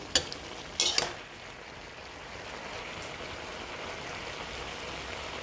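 Tomato and spices for a drumstick curry being stirred in a pan: a couple of sharp scraping knocks at the start, then a continuous soft sizzle and faint stirring hiss, with no voices.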